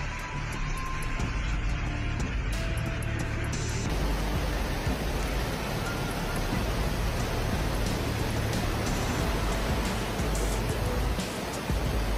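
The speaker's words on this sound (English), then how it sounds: "Image of heavy rain." Heavy rain pours down steadily, a dense continuous hiss of water that stays loud and even throughout with no voices.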